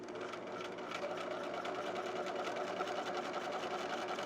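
Close sewing machine running steadily at a regular 2.5 stitch length, stitching zipper tape to fabric for a handbag clutch, a continuous rapid mechanical whir with no pauses.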